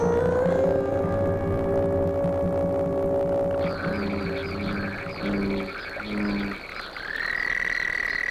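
A chorus of frog calls, the first love song heard on Earth from the ancestors of frogs and toads: layered, throbbing croaks and trills overlap continuously, loud and close, with a higher chirping voice joining midway.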